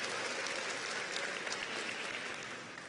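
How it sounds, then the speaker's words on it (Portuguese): A church congregation at a Bible study session applauds together, a faint, even wash of many hands clapping at a distance that tapers off slightly at the end. "Se vocês se alegram, dê um grito e dê um aplauso"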